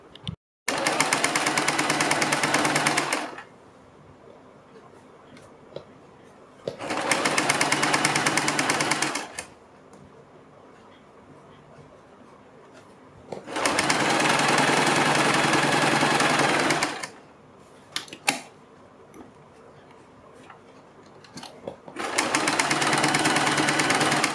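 A sewing machine stitches around the folded neck edge of a kurti in four loud, steady runs of several seconds each, separated by quieter pauses with faint handling.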